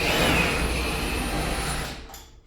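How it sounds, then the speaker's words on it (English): A wrench drags a lower control arm bolt out of the suspension of a 1994 Honda Civic EG/EJ during a D15B7 engine removal, giving a close, steady metallic grinding scrape that fades out near the end. "just take your wrench and throw it behind that flange and just hold it wide open and start pulling it out"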